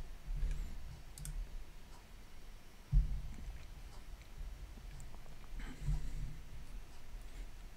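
A computer mouse clicks a few times, quiet single clicks spaced apart over faint room noise, with no talking.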